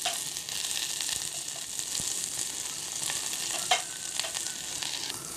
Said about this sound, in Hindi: इसको थोड़ा थोड़ा चलाते रहिए ताकि जलने ना दे और अच्छी तरीके से लाल हो जाए